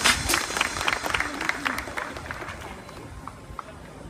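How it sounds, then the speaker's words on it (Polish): Applause from the audience at a Polfarmex Kutno team presentation event in September 2015, a crowd clapping loudly at first and then thinning out over a few seconds, with faint voices beneath. "Wielkie brawa dla Pauliny, moi drodzy."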